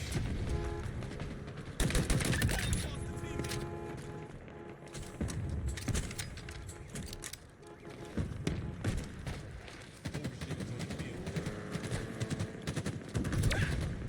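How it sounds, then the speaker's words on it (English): Gunfire in a Halo Infinite Big Team Battle match, fired repeatedly at a bridge, with rapid bursts, thuds and explosions layered in a dense, loud continuous battle din. "I'm gonna just fire at the bridge over and over and over again"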